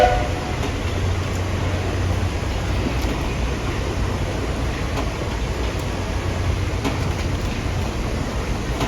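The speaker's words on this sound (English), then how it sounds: "here we come into the Magic Kingdom monorail station" A Disney monorail train rumbles steadily as it pulls into the Magic Kingdom station, a loud continuous broadband roar from on board with no clear pauses.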